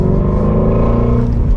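A Ford Mustang Shelby GT350R engine while driving, a loud, steady low-pitched rumble with strong harmonic drone filling the cabin, slight variation near the end, no talk over it.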